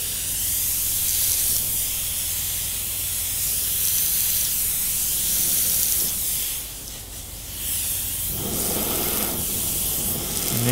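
An airbrush sprays paint freehand onto a bat artwork, a continuous loud hiss that holds steady, dips briefly, then swells again, with faint background noise underneath.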